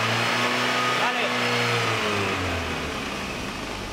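A car engine under a Speeduino programmable aftermarket ECU revs up in a steady, loud roar, with pitch rising then settling lower near the mic, while people talk over it.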